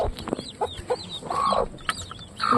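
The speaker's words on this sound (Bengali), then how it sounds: "ওই যে মুরগি পার ভিতর, মুরগির বাচ্চা পার ভিতর ফেসে গেছে" Several chickens cluck nearby in short, irregular bursts, with a brief squawk in the middle, as chicks are trapped inside an enclosure.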